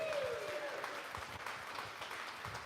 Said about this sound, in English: Let's give Ken a big round of applause.